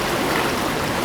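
Waterfall in an outdoor landscape setting, a brief, steady rush of flowing water that fills the whole moment evenly.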